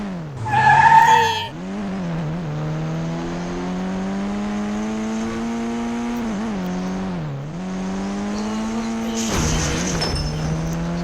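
A car in the Indian Bike 3D video game drives with a loud, steady engine drone that rises and falls in pitch, with bursts of tire skidding near the start and end; no one speaks.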